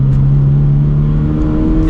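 A 2022 or later Toyota GR86 with a naturally aspirated engine and an MST cold air intake runs steadily. Its loud, close, droning hum holds at a near-constant pitch, with no voices.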